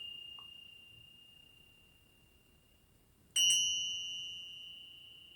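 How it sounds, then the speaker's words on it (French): Two small Tibetan bells on a short string strike together, with a thin high ring lingering quietly before one fresh, bright strike that rings on and slowly decays, near and alone in a calm, quiet room. "je vais commencer par la cloche tibétaine avec un fil un peu court"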